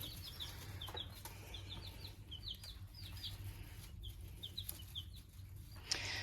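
Baby chicks in a brooder with pine shavings give repeated high peeping chirps throughout, close and steady, with faint rustling underneath.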